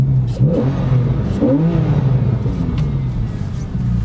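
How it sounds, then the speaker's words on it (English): Porsche flat-six engine revs in neutral, with two or three quick blips rising and falling over a steady idle rumble, close and fairly loud with no talk. "The flat six engine, right? So if I just quickly put it in neutral"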